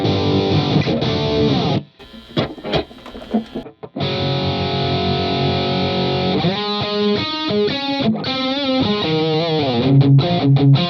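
Heavily distorted electric guitar through a Rockman XPR with an impulse response, playing 1980s-style chords and riffs, loud and saturated, with a couple of brief pauses between phrases.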